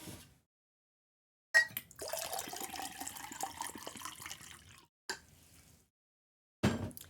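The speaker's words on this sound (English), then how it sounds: "I gotta pour water" Water being poured runs in a steady splashing stream for about three seconds, followed by a short second pour and a brief clatter, with silence in between.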